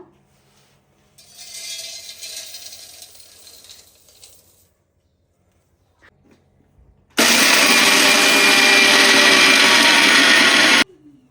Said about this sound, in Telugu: ఇవి చల్లారిన తర్వాత మూడు కలిపి మిక్సీ చేసుకోండి పౌడర్ లాగా.